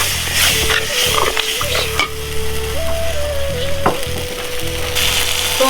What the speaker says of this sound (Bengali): দেখুন মশলাটা কষা কষা হবে